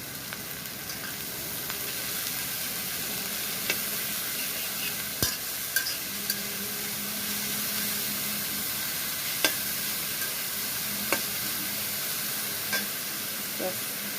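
Kolai greens frying with green chillies in a pan: a soft, steady sizzle and hiss fills the whole stretch, with occasional faint clicks from the utensil, fairly quiet and with no talk.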